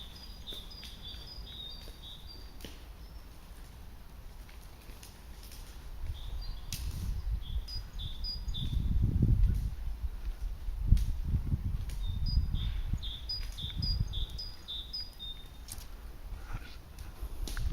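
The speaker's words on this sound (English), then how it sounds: "listen to the old bird song" Birds chirp in short high repeated calls in quiet woodland, with faint insect buzz and low rustling or footsteps in the middle, no talking.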